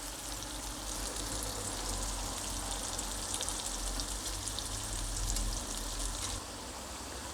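Shrimp (gamberi) frying in a pan for spaghetti con gamberi, a steady dense sizzle with crackling pops that holds evenly from start to finish, close and moderately loud, no talking.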